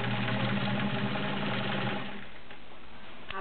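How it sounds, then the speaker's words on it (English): A heavy-duty Kenmore 1750 sewing machine stitches through fourteen layers of fabric with a steady, fast mechanical whir close by, slowing and quieting toward the end. "Absolutely phenomenal how this machine sews."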